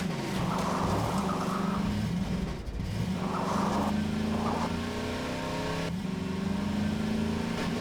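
A car engine in the Half-Life 2 video game drones loudly and steadily, its pitch stepping up and down as the vehicle speeds and shifts, with no talking.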